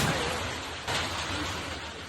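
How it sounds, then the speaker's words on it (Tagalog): Heavy rain mixed with hail pouring down in Dagupan City, a dense steady roar of falling water and ice with no break. "Ulan na may kasamang yelo ang bumuhos sa Dagupan City."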